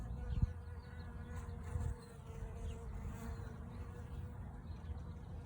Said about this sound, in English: these are just wild bees that are in my yard that have found the feeders